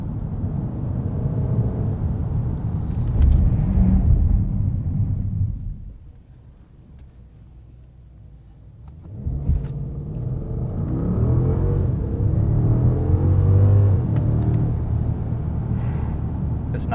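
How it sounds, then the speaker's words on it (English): 2021 Mercedes-Benz S580 4MATIC with a 9-speed automatic accelerating from a stop, a muted cabin rumble that builds, dips briefly during a shift lull, then surges again strongly. "Let's test out a 0 to 60 run here."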